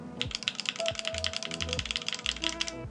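Rapid typing on a Phantom 65 mechanical keyboard fitted with Queen switches, a dense run of crisp close-up key clacks in irregular rhythm with no talking.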